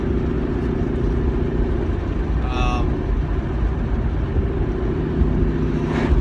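A 2015-18 Ford Mustang's engine drones steadily at 40 mph in fifth gear, with constant road and wind rumble, the tone holding even throughout.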